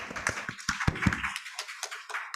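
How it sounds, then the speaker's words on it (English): Scattered hand claps from a small online seminar audience after an academic talk, a few sharp taps near the start thinning into light, irregular clapping that fades out over a couple of seconds. "could you please give a big applause for the Jose talk?"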